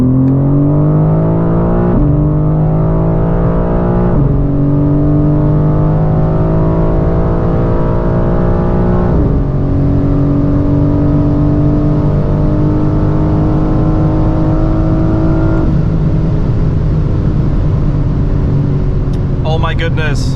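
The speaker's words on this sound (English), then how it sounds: "Let's see how fast we can get this car 100 to 200." A 550 hp BMW M4 CSL accelerates hard from 100 to 200 km/h on the autobahn, its loud engine climbing in pitch through several gears with brief drops at each shift, a continuous roaring run.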